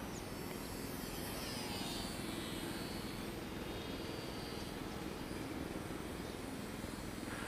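A small Mini Trainstar toy RC airplane flies outdoors in rising wind, its electric motor and propeller making a steady, faint, unbroken whine and hiss with no voices.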